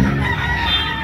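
A gamefowl rooster crows once, loud and close, a short harsh call lasting about a second.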